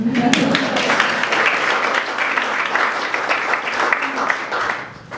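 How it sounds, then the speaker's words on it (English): An audience at a school service recognition reception breaks into steady applause, a dense wash of clapping that carries on for several seconds before tapering off at the end. "That deserves a round of applause."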